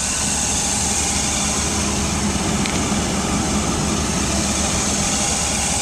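A 1997 BMW 328 convertible idles at a dealership lot, a steady, even engine drone with a bright high whine, heard close and continuous with no talk.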